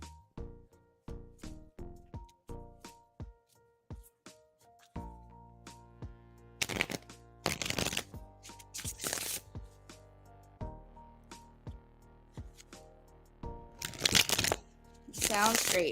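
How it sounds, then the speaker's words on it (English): Tarot cards being shuffled during a live reading produce a run of quick, crisp snaps and riffles, some in bursts, heard close against a quiet background while a person talks. "shuffling for you now"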